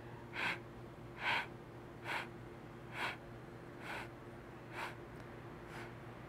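A person breathes in short, sharp puffs of air in a steady rhythm while marching during an exercise routine, with seven evenly spaced breaths close to the mic over a faint background hum.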